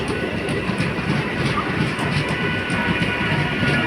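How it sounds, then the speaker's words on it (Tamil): An Arakkonam to Chennai Central passenger train rolls past close by near Avadi, with a continuous rumbling roar and rhythmic clattering of wheels over the rails. "இந்த ட்ரெயின் அரக்கோணம் டு சென்ட்ரல் செல்கின்ற ட்ரெயின்."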